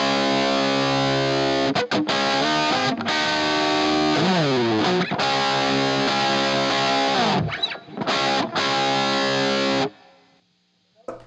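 Electric guitar runs straight into a Marshmallow effect with a thick, distorted tone, playing loud sustained chords with short breaks and pitch bends. It stops abruptly near the end, leaving near silence.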